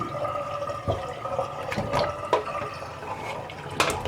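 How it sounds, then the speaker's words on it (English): African breadfruit seeds (ukwa) washed by hand in a bowl of water, with steady sloshing and splashing, a few sharper clunks and pouring sounds, close and fairly loud, no voices. "I wash it like 3 times before I cook it"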